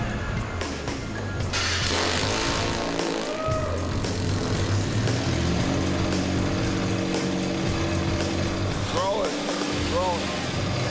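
A homemade watercraft powered by a Mazda Miata engine cranks and catches, settling into a steady droning idle with rising and falling engine tones and a mechanical clatter, all under a narrator's voice.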